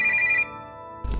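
A phone ringtone in an Indonesian animated cartoon plays as a bright, steady electronic melody for under half a second, then cuts to quieter tonal background before a low thump.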